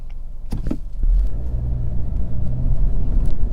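A 2022 Honda Civic Touring sedan rolls along in traffic, giving a steady low road rumble and engine drone with a few faint clicks near the start and no talking.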